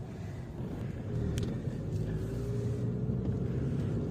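A Chevrolet Aveo with a VGT engine cruises in fifth gear at low speed on a downhill slope, giving a steady low engine drone and road rumble inside the cabin, with no talking.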